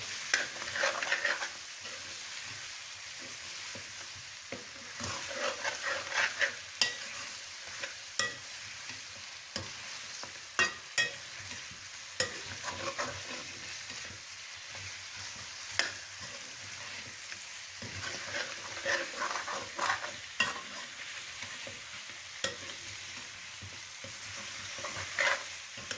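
Ginger garlic paste fries with desi chicken in a karahi, a soft continuous sizzle punctuated by repeated scrapes and knocks of a stirring spoon against the metal pan, fairly quiet and without talk.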